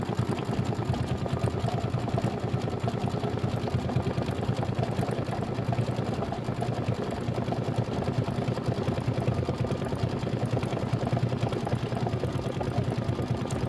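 An embroidery machine stitches a palm tree placement line in spice brown thread, a steady, fast mechanical whir with rapid needle pulses running continuously and evenly throughout at a constant close level.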